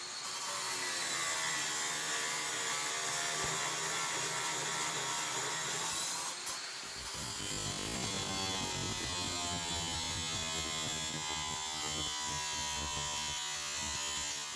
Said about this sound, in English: so I've just got to grind them off